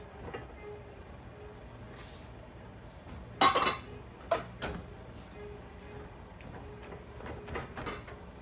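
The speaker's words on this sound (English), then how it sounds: "So into the onions, I'm adding all the rice." Rice goes into fried onions in a pan: a quiet scene with a sharp metallic clatter of utensil against pan, then a few lighter clinks and taps.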